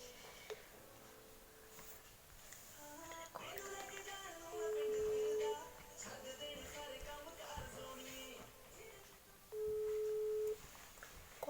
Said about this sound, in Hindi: और अब अभी हम गुजिश के रिलेटिव को कॉल कर रहे हैं